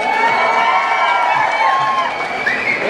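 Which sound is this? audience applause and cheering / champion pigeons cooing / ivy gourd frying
audience applause and cheering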